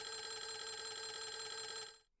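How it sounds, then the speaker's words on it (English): A telephone rings in the Clock Tower: The First Fear video game, a steady, bright electronic ringing tone that continues alone and evenly for about two seconds before stopping. "a ringing phone definitely means that there has to be some outside connection"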